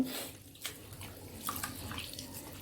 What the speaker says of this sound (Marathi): आता पुन्हा मी चांगलं धुवून घेते